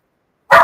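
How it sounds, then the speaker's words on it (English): A single sharp dog bark, close and loud, following a moment of silence. "She's barking"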